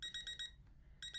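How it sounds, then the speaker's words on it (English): A one-hour countdown timer alarm goes off during a crochet session, sounding as a loud, close burst of rapid electronic beeps, then a brief pause and the beeping starting again. "because my 1 hour timer went off"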